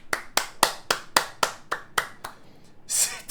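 One person claps hands about ten times in an even, brisk rhythm, close and crisp, followed by a short rustling burst.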